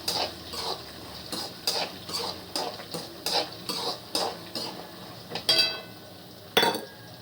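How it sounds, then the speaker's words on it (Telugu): Green chillies fry in a pan with a spoon scraping and clinking against the metal in regular strokes, a quiet sizzle running underneath and a couple of sharper spits and clanks near the end. "రెండు మిర్చి కొంచెం వేస్తాను నేను ఇది కొంచెం వేగాలండి"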